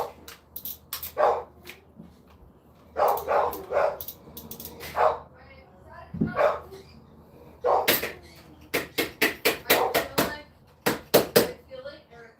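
Several dogs bark aggressively at someone coming through the door, in sharp repeated bursts and volleys with short pauses between them, heard fairly close indoors along with faint door or cupboard knocks.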